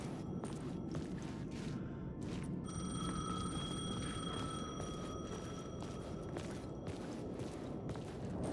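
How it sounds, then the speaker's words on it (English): A payphone ringing in the game Alan Wake 2, repeated bursts of a bell-like ring over a dark, rumbling background, with a few soft footsteps. "The payphone was ringing."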